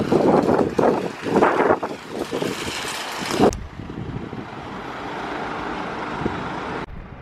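Strong gusty wind buffeting the microphone with low rumbling roar while queuing outside an Asda supermarket, easing after a few seconds into a steadier outdoor wind noise with faint traffic beneath.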